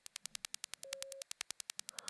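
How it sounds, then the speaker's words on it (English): A modular synth patch in a glitchy style sends a sine wave through a filter, producing a fast, even train of sharp clicking pulses with a brief steady tone sounding partway through; quiet and cleanly isolated. "this filter can use another sine wave"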